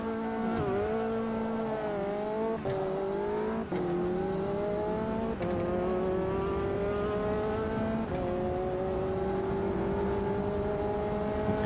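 Several KTM X-Bow race cars drone steadily in Automobilista 2 on the Buenos Aires circuit, their engines climbing and dropping through gear changes in a continuous, layered roar with no talk.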